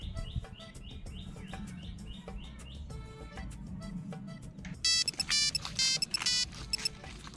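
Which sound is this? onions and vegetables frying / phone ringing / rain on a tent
phone ringing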